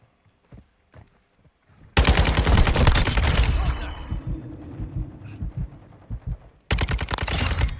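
Rapid automatic fire from an RPK light machine gun in Call of Duty Modern Warfare II, a loud sustained close burst, a pause with scattered shots and echo, then another dense burst.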